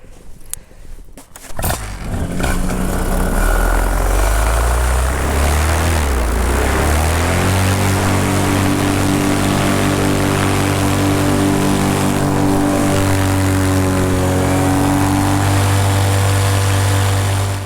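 A paramotor engine is cranked on the ground before a flight, sputters briefly, then catches and roars into a loud, close, steady propeller drone whose pitch climbs and settles as it keeps running.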